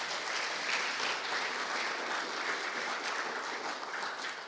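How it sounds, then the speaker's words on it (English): A summit audience applauding steadily, a dense wash of clapping from a large crowd held at an even level throughout, with no voices over it. "Give yourself a big round of applause."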